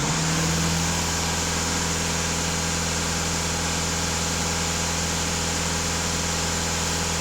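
A Volkswagen TDI diesel engine idles steadily with a low, even hum and vibration, loud and close throughout with no speech.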